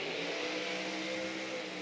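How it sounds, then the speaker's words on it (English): Nitro drag racing engines of a Mustang funny car and an HJ Coupe run together at a steady, loud, throbbing idle after start-up, filling the entire stretch without pause. "that's the sound of David McGraw and Keith Angus starting their respective vehicles"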